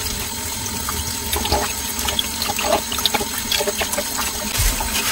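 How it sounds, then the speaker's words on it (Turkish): Bay leaves being rinsed one by one under running tap water in a sink, a steady close splashing flow with small irregular drips and clinks throughout, no voices. "Defne yapraklarını bir bir tertemiz yıkıyoruz."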